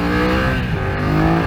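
A 2020 BMW F900XR motorcycle accelerates in first gear, its engine droning loud, close and steady for a brief stretch.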